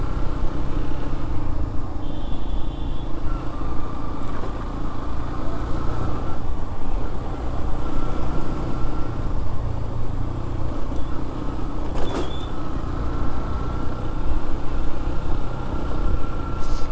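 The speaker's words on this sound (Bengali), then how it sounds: "বিশাল এক জ্যামের বাহার।" Traffic jam on Cox's Bazar Marine Drive road in the evening: a continuous drone of idling cars and motorbikes, with a couple of brief horn-like tones over the steady engine noise.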